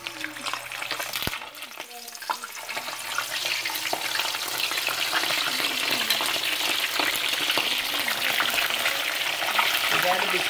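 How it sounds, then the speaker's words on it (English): Fish for brown stew fish fries in hot oil with a steady, close sizzle that grows louder after the first couple of seconds, with some light stirring and a faint voice underneath. "Then I am gonna fry these. I'll fry this one first."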